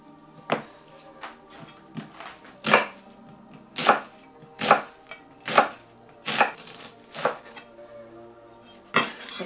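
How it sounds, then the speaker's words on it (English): Onions are chopped on a board in about ten distinct, evenly spaced knife strikes, each a crisp close thunk with a short ringing tail. "I'm going to chop in some more onions"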